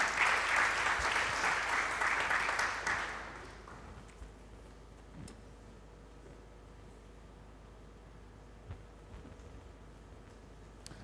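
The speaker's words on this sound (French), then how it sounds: "Quelqu'un peut acclamer le Seigneur notre Dieu." A church congregation breaks into applause to acclaim the Lord, loud dense clapping for about three seconds that fades out, leaving a quiet room with faint scattered knocks.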